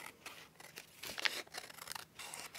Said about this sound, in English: You put this through a trimmer.